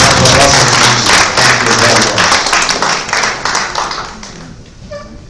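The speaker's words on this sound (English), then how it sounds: "A round of applause, my please." An audience at an agricultural business exhibition applauds the director-general of NAFDAC, with a loud burst of many hands clapping that gradually thins out, and someone speaks a brief thanks at the close.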